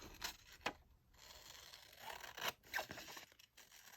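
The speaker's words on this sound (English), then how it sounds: "So then I'm going to cut this out." Scissors cutting an index card produce several short, quiet snipping and rustling strokes up close, spaced irregularly over a few seconds with soft paper handling between them.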